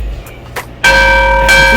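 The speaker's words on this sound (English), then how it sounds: "Now you need to check out this bell." A bar bell in Peekaboo rings out loudly after a few soft knocks, its bright clang sustaining and then struck again near the end, close and ringing.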